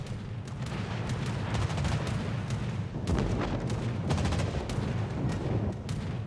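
Naval gunfire in World of Warships with the Graf Zeppelin: dense, continuous rumbling booms and crackling salvos roll on throughout, with heavier blasts around the middle, loud and unbroken, no voices.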